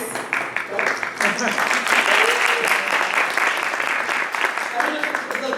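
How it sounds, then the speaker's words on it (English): Audience applause at a university Three Minute Thesis competition as the judging panel is introduced, a full round of crowd clapping with some voices mixed in, steady throughout the short stretch. "applause was for Patricia or Willie?"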